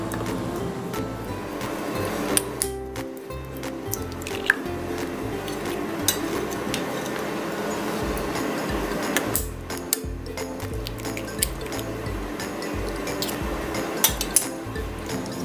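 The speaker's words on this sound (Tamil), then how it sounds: "நம்ம முட்டையை இதில் உடச்சி ஊற்றி மிக்ஸ் பண்ணிக்கலாம்" An egg cracked into besan dosa batter and stirred in a bowl, with a few sharp clinks over a steady, wet sloshing and whisking that runs close and continuous throughout.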